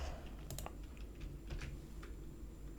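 Keys tapped on a computer keyboard in short, scattered clicks, a few quick strokes at a time with pauses between, fairly faint over a steady low room hum.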